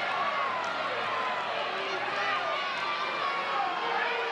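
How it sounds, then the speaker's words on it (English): A rowdy crowd at an NCAA college softball game in a new stadium, Oklahoma against Miami, voices loud disagreement with a call as a dense roar of many voices, with a commentator speaking over it. "Crowd disagreed with that one."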